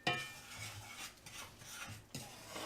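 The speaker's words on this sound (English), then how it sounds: "on a wood spoon, give that a little bit of a stir" A wooden spoon stirs melting butter and brown sugar in a pan, giving a few separate scraping, rubbing strokes with faint sizzling between them, close by and with no talk.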